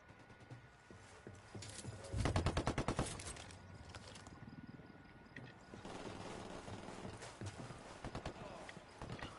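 Rapid bursts of automatic gunfire in the video game Ghost Recon Wildlands, a loud volley near the start followed by quieter repeated shots, with talk over the top.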